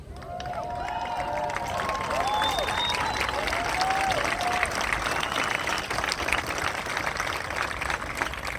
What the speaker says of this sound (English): I can understand your clapping,